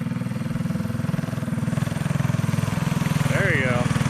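A child rides a small mini bike whose engine putters with a steady, rapid rhythmic chug, rising slightly toward the end, while adults talk nearby.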